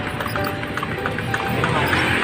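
Rapid hoof clip-clops from a kalesa carriage horse moving along steadily through Manila, with background chatter and ambient noise throughout.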